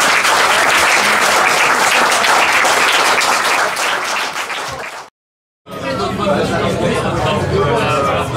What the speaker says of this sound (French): Et on va applaudir maintenant.